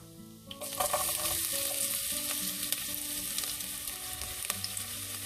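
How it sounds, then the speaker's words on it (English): Garlic, hing, cumin, fennel and onion seeds hitting hot oil for bitter gourd (karela) sabzi, erupting into a loud, steady sizzle with frying crackle that continues throughout over soft background music. "hing or asafoetida, cumin, sauf and onion seeds, and now we will add garlic"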